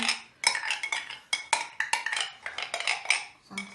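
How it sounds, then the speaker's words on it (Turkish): Spoon stirring tahini and sugar together in a bowl, with repeated scraping clinks against the bowl in an irregular rhythm, close and clear, with no talking. "biz tahinle şekeri karıştıralım ee, ve şeker biraz e, erisin içerisinde tahini"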